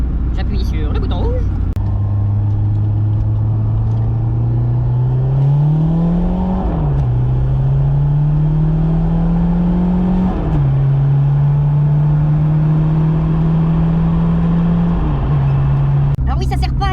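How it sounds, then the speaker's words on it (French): A car engine revs steadily on an open road, its pitch climbing through the gears in long rising sweeps with short drops at each shift, loud and continuous. A voice speaks briefly at the start. "On entend bien le moteur là."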